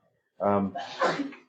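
One sharp human sneeze comes through close and clear in a quiet indoor room, a voiced burst followed by a breathy release.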